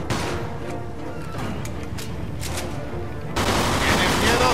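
Gunfire erupts in the Mafia 2 video game: rapid bursts and volleys of shots cracking close by, growing into a denser, louder barrage toward the end, with shouted voices mixed in.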